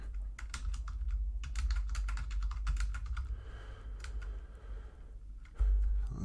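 Continuous typing on a computer keyboard while writing Java code comments, with rapid, close clicking in uneven bursts, a short pause, then a heavier thump near the end.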